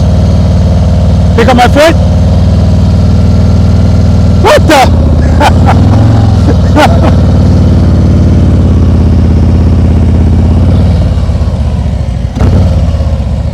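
Motorcycle engine idling and pulling low in first gear while the clutch is slipped at the friction point during slow-speed practice, a steady close drone with brief changes, and a rider talking over it.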